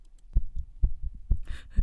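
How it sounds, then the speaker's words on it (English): A heartbeat sound effect in an audiobook: steady, deep, muffled thumps pulse about twice per second, close and alone, with a faint airy texture creeping in near the end. "That was Adder's heartbeat as she stared at him so intently"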